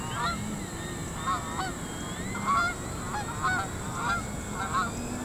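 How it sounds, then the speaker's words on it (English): Canada geese honk in a rough rhythm of repeated calls while flying over, heard faintly at a distance over a steady drone from a radio-controlled model plane. "I heard some Canadian geese going over and saw a nice V formation of them"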